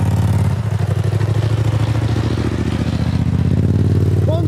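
A Raptor quad bike engine idles with a rapid, rough putter, close and loud, briefly rising in pitch as it revs, with a faint voice near the end.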